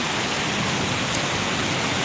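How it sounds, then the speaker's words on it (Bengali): Steady heavy rain falling in Dhaka, a dense, even broadband hiss filling the whole stretch with no breaks or voices. "চেষ্টা করছি তাদের সাথে বৃষ্টিটা ভালো করে দেখানোর জন্য উপভোগ করার জন্য"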